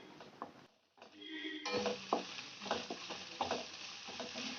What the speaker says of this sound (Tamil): இப்போ நம்ம இஞ்சி பூண்டு பேஸ்ட்டையும் சேர்த்துட்டு நல்லா வதக்கி விட்டுக்கலாம்.